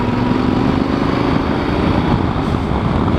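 A Yamaha Super Ténéré motorcycle engine drones steadily while riding on the road, a loud continuous hum and rumble without any speech.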